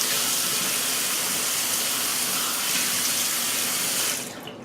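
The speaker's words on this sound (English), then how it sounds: "we're going to put a little bit more water on the face." A bathroom tap gushing water into a sink as the face is wetted before a single-edge razor shave, steady loud hiss throughout that cuts off near the end, no voices.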